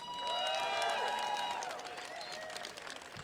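Applause and cheering from a crowd at a live political victory tour rally, a loud steady wash of clapping with whoops and shouts that eases slightly toward the end.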